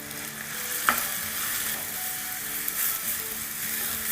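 Finely chopped onion and a green chilli with salt fry in a pan, a steady close sizzle with occasional clicks and scrapes of stirring throughout.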